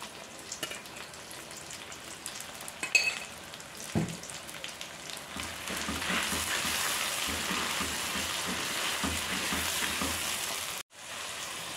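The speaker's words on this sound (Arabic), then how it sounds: "هسه نضيف الدجاج مالتنا او صدر الدجاج" Chicken breast strips for fajitas sizzle in a hot pan, a steady hiss that settles in after a few clinks and a thud, holding until an abrupt cutoff near the end.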